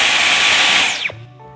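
A Dyson V11 cordless vacuum cleaner whirs steadily at high pitch, then powers down with a falling whine that ends in a low, resonant thunk, heard up close with no talking.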